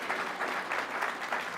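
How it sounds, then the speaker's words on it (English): An audience at a keynote event claps briefly, a dense, moderately distant patter of hands without any voices. "give Amber a round of applause"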